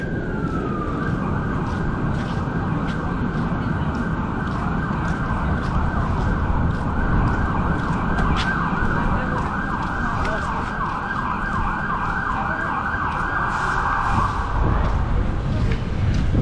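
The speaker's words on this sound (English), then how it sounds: "the ambulances and fire trucks, that's a common thing to hear in Waikiki." Ambulance and fire truck sirens wail loudly and steadily in Waikiki, a rising and falling tone over heavy traffic noise, sounding close and continuing throughout.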